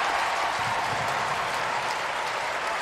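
Crowd at a women's soccer semi-final between Portland Thorns and Houston Dash in the stadium stands, giving steady applause and cheers after a defensive play, a broad, even wash of clapping that is moderately loud and sustained throughout.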